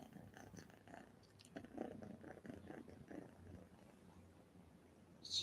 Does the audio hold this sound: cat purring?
yes